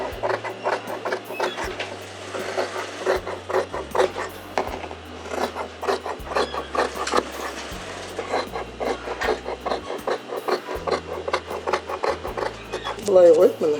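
Cutting through two layers of fabric for a face mask, a series of close, rhythmic rasping strokes repeated steadily, with a low steady tone running underneath.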